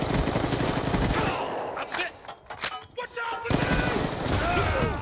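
M8 rifle firing in a multiplayer video game match: dense, loud automatic bursts of gunfire, a short pause with scattered shots in the middle, then sustained firing again.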